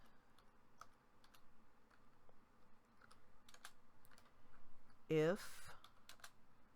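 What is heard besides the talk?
typing on a computer keyboard with one hand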